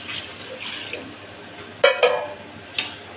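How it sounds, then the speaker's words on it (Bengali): Mutton stock poured into a pan of cooked-down spices, a few splashing, liquid bursts close by after quiet kitchen background. "এইবার যেই মটন স্টকটা এটা আমি দিয়ে দেবো।"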